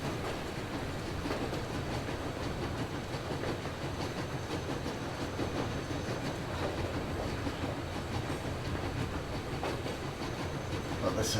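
A train rolls along in the video game Metro Exodus, a continuous rumble with faint rhythmic clacking from the wheels under a busy, steady background.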